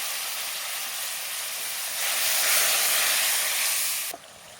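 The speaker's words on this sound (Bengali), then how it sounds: "অল্প একটু পানি দিয়ে দেবো, দিয়ে মশলাটাকে কষিয়ে নেব।" Spice masala frying in a pan with a splash of water, for a spicy river fish curry, gives a steady close sizzling hiss that swells midway and then cuts off abruptly near the end.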